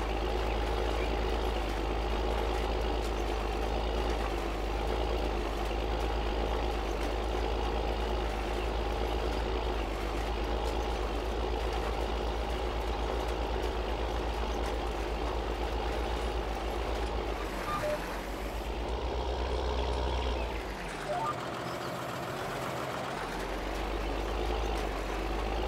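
Tractor engine in Farming Simulator 19: a steady low droning rumble that runs throughout, with a brief dip and a shift in pitch partway through as the engine note changes.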